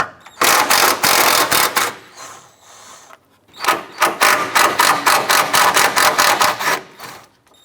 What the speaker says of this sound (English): Using a 10mm socket, we want to go ahead and remove these two upper bolts.